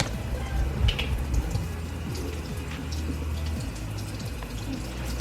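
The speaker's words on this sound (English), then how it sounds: "I'm going to pour the water off, y'all. So there's a lot of water on here from rinsing it." Rinse water poured off fried-fish pieces in a home kitchen, a steady splashing trickle running throughout with a few brighter drips, fairly close and unbroken by talk.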